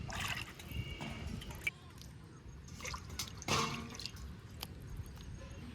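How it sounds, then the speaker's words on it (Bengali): Mutton pieces being washed in water, heard as soft sloshing, dripping and splashing, faint and close in a quiet kitchen. "মাংসগুলো দুই একবার ধুয়ে নিলাম"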